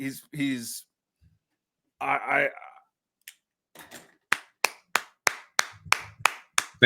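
A small group claps in a quick, uneven burst of sharp hand claps, following a few short spoken phrases, with the clapping close and fairly loud.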